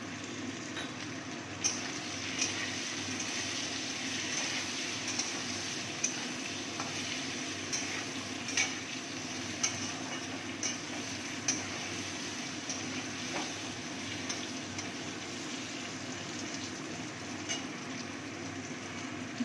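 Eggplant seasoned with salt and turmeric fries in a pan, giving a steady, close, even sizzle throughout with occasional light clicks of a utensil against the pan.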